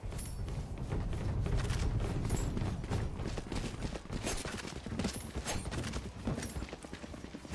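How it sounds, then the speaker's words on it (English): Valorant match combat with a swarm grenade going off amid gunfire, a dense, steady run of rapid crackling pops and small bursts lasting several seconds, loud and busy throughout without talking. "Swarm grenade out."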